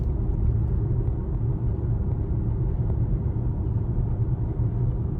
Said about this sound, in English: now we're gonna go on a little evening drive here, get it up to temp, do a couple laps